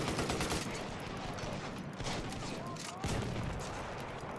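Rapid machine gun fire from a video game, played as a Stormtrooper, rattles in dense bursts with a brief gap near the end, fairly faint and mixed with game noise.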